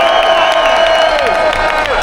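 A large outdoor free-speech rally crowd cheers and claps for Irish patriots, a loud, sustained roar of voices and applause with shouting rising above it.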